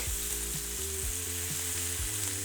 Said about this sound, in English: That is a really well-seared piece of steak.